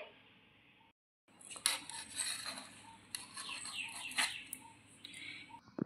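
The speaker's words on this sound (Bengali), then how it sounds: "এবার আমি পছন্দ মতো পিস করে নেব এটাকে।" Pieces of a sweet made from layered stale roti being cut on a plate, giving several sharp clinks and scrapes of utensil against the plate over a quiet room, preceded by a moment of near silence.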